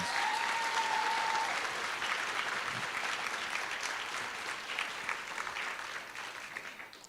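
A crowd applauds honor roll students at a high school recognition event, with sustained, steady clapping that slowly fades toward the end; a brief tone sounds at the start.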